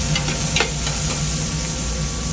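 Garlic and shallots sizzle loudly and continuously in a hot pan, with a few scraping strokes of a stirring spoon standing out near the start, and no voices.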